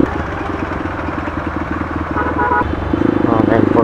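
A Honda XR150L motard fitted with an open pipe exhaust runs nearby with a steady, throbbing engine note that swells slightly toward the end, while voices are heard over it.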